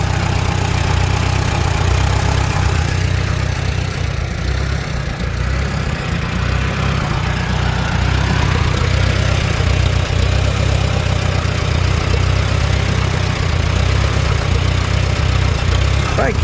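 Small engine idling on a Chinese aftermarket carburetor at half choke, a loud, steady low rumble running unbroken and close, with faint talk underneath.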